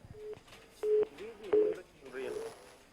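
A telephone line tone after a disconnected call during a TV news phone-in sounds as short, repeated steady beeps at a mid pitch. A voice talks faintly in the background.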